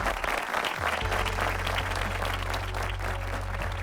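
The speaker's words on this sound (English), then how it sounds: "let's hear your applause for our chief guest and keynote speaker." Sustained audience applause fills a convocation ceremony hall in Sri Lanka, dense clapping holding steady and loud for several seconds as the crowd welcomes a chief guest and keynote speaker.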